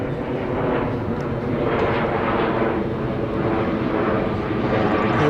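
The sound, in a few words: airplane flying overhead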